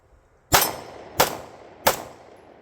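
Fusion XP Pro 2011 pistol firing three sharp, loud shots at a steel target, spaced a little over half a second apart, each with a short ringing tail.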